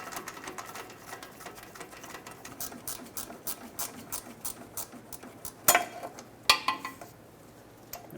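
A ratchet clicks in a rapid series of light, repeated strokes as transmission mount bolts come off a Chevrolet Express van, with a few sharper metallic knocks near the end.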